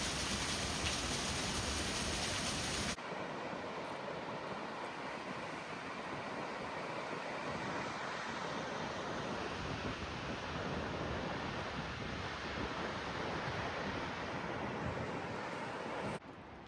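Ocean surf from a lookout high above a California beach, a steady broad wash of waves rolling on without break, no voices.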